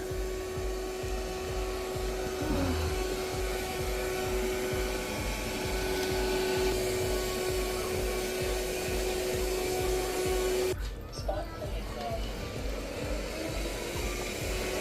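A robot vacuum and mop runs a spot-cleaning pass on max suction, a steady whirring hum with a pulsing, rhythmic brush churn and a brief high whine that cuts off partway through.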